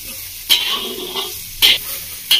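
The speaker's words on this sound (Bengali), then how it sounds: "গ্যাসের ফ্লেম মিডিয়াম করে দিয়েছি, মিডিয়াম ফ্লেমে কষিয়ে নেব।" Moringa drumstick pieces are sautéed in a pan over a medium gas flame, giving a steady close sizzle broken by three sharp scraping stir strokes.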